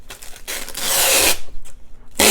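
A protective plastic cover being peeled off the top of a tracing light pad, giving a loud, close tearing rasp in several pulls with brief pauses between them.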